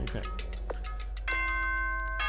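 Electronic doorbell chime from the video game Danganronpa 2, a clear multi-tone ding-dong ringing out and sustaining after a brief muffled lead-in.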